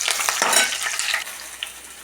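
Onions and green chillies fry in hot oil with a bright, crackling sizzle, stirred with a few scraping strokes, close and fairly loud over a short stretch.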